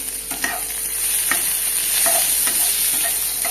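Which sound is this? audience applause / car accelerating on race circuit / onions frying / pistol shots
onions frying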